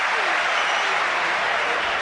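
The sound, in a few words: football stadium crowd urging on the home team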